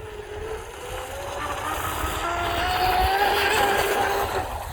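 An RC Blackjack 24 boat with an upgraded ESC, stock 2000kv 3650 motor and 4S battery runs at full throttle, a loud, steady, high-pitched motor whine that climbs slightly and holds, heard up close.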